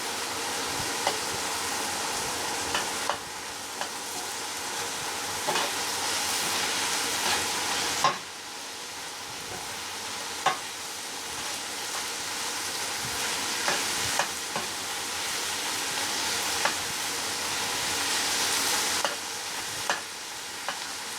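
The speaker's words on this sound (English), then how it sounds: "Listen to that sizzle." Food fries in a pan with a steady, loud sizzle and crackle, interrupted by occasional sharp stirring scrapes, close up.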